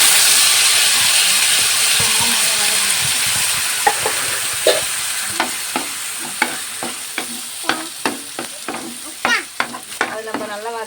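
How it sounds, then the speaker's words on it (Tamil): A ground paste sautéing in a pan gives a steady hiss that gradually fades, then regular scraping strokes of a spoon stirring it, close and clear with no talk. "அது நம்ம நல்லா வதக்கி போட்டுக்கலாம்"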